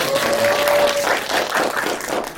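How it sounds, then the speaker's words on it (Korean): A church student retreat audience breaks into brief, dense applause to welcome a guest, close and loud clapping with a faint whistle-like tone early on. "인사 박수"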